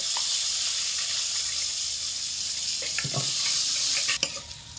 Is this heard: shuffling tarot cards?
no